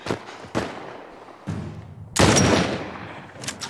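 Gunfire in The Last of Us on PlayStation, several loud separate shots with sharp onsets, then a heavier burst with a lingering rumbling decay near the end.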